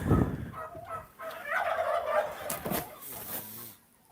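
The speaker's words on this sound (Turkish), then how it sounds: "Yumurtaları gömüyorlar arkadaşlar hindiler." Turkeys gobble in loud, rapid warbling bursts, close by, one after another with short pauses between calls.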